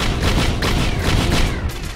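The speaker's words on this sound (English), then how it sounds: "Eat fireworks and eat bullets." Rapid gunfire and firework bursts from the video game Risk of Rain, a dense, continuous volley of sharp cracks and booms with no pauses.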